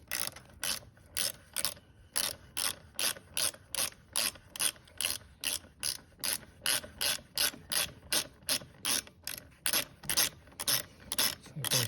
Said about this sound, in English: So get my little 8mm here. My little socket wrench.